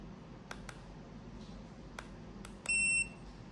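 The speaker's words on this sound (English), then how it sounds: "Buzzer." An alarm clock with a vibrating bed shaker sounds its buzzer alert, a few sharp clicks followed by a short, loud electronic beep up close, with no talking.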